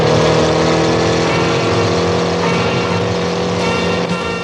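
A motorcycle engine revs loud and close, a steady, buzzing roar that swells and holds for a few seconds with no voices over it.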